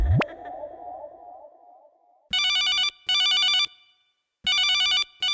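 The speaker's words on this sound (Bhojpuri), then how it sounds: "हमारे एक और कॉलर का फोन आया है" A telephone rings for an incoming caller on a radio show. A whooshing sweep effect comes first, then several loud, evenly spaced electronic ring bursts with short silences between them.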